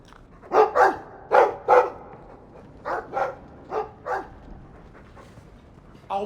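A dog barks in the Dragon Age 2 video game, giving about eight sharp barks in quick pairs, fairly close and clear, with a short pause between groups.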